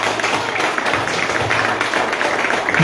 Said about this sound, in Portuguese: Aplauda bem forte, Senhor.